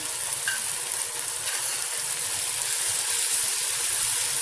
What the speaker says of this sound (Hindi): मसाला पकते हुए।